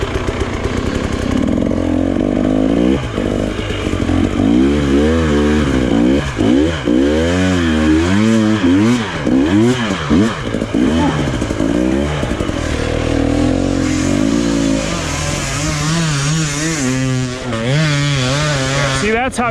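A dirt bike engine revs hard at full throttle on a steep, log-strewn trail in Romania, loud and close, its pitch swinging up and down in repeated surges with a rider's voice talking over it.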